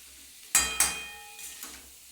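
New winter potatoes frying in oil for a Bengali aloo dum, with two sharp clattering stirs in the pan followed by lighter scraping and a soft sizzle; no talk.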